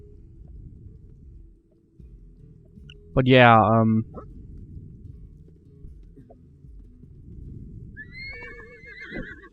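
A horse in the Disney Infinity video game, Lone Ranger playset, gives one loud, close whinny that sweeps down in pitch, set over low background rumble with brief clip-clop and faint game tones afterward; someone talks briefly.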